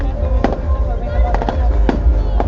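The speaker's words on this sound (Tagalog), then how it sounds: "Hindi pa tapos yung fireworks." Fireworks burst outdoors in sharp separate cracks and pops at irregular intervals, some close together, over a steady crowd murmur with people talking nearby.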